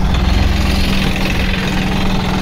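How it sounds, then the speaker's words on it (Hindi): Swaraj 969 FE turbo tractor engine running loud and close with a steady low throbbing rumble, holding an even, constant drone throughout with no talk. "तो भाई आवाज़ देखो इस ट्रैक्टर की, बहुत बढ़िया आवाज़ है"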